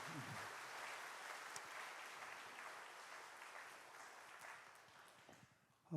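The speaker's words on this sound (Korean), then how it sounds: "우리 다시 한번 우리 교회 몸찬양팀 모두에게 큰 박수로 축복하시기 바랍니다" A church congregation applauds its praise dance team at a devotional service, a steady wash of many hands clapping that gradually thins and fades toward the end.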